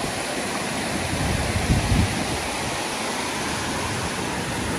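Loud, steady rush of a fast-flowing, very cold mountain stream in Swat's Kalam Valley fills the whole clip, a constant broadband roar with no talking.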